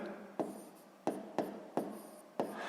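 Pen or pencil strokes scratch across paper while working a sixth-grade math exercise, five short crisp taps and scrapes in an uneven rhythm, close and alone in a quiet room.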